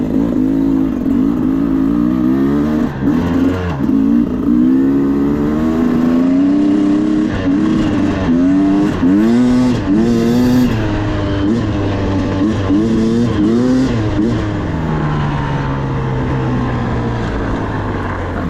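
A 2023 Beta 300RR Race Edition two-stroke dirt bike revs loudly and continuously while being ridden, its engine pitch rising and falling in repeated throttle blips close by.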